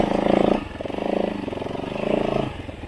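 KTM 690 single-cylinder motorcycle engine accelerating in surges, a throbbing, pulsing drone that rises and falls three times over a few seconds, close and fairly loud.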